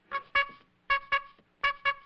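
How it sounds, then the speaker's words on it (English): An old-fashioned car horn honks three times in pairs, each burst a short double toot with a reedy, harmonic tone, separated by brief pauses; fairly close and alone with no talking. "I'll honk the horn"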